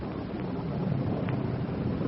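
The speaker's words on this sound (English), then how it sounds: "Rain's starting, man. Windy." Radio-drama rain and wind effect: a steady broadband rushing wash with gusty swells, continuous and fairly loud, no voices.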